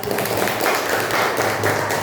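A classroom of students claps for a student named Sakia, a steady patter of many hands filling the room briefly.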